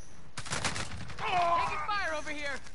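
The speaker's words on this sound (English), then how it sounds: "Taking fire over here." Gunfire in a team-based video game: a quick cluster of shots near the start, then someone talking over softer background game noise.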